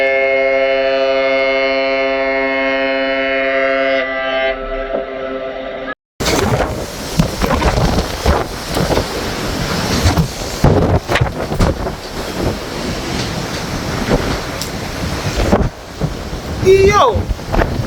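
Strong wind roars and buffets the microphone on the open deck of the cruise ship P&O Arcadia in rough, choppy seas, a loud, continuous rushing gale with gusty bursts, following a steady tonal hum at the start.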